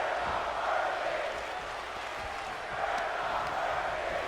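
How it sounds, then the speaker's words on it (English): A large wrestling arena crowd in WWE 2K23 roars and chants in a sustained, rhythmic swell, a dense wall of voices that rises and falls slightly throughout. "The crowd telling Escobar that he's not worthy"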